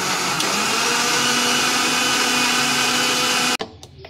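An electric mixer grinder blends a chocolate banana milkshake with ice, a loud, steady high whir running for about three and a half seconds before cutting off abruptly, followed by a few faint knocks.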